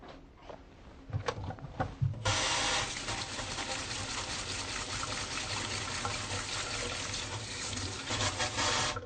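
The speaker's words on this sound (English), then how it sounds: "first I'm going to wash my hands" Hands are washed under a running tap: a few faint clicks and splashes, then water gushes steadily and fairly quietly for the rest, with slight fluctuations from hand movement.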